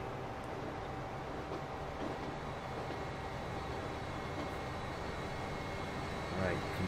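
A hybrid MHST 2050 train in the Transport Fever game heads uphill out of Moscow, giving a steady, continuous mechanical rumble with a smooth running hum that holds evenly throughout.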